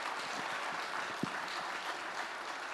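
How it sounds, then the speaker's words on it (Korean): A church congregation in Korea applauds at a Sunday service for new members completing their training, steady dense clapping throughout with one sharper clap standing out midway. "우리 큰 박수로 축하해 주시면 감사하겠습니다."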